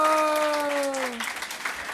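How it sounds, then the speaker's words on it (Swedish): A crowd applauds the Swedish teacher of the year at an awards event, with a sustained vocal whoop gliding downward over scattered clapping that continues after it breaks off. "Ge en stor applåd."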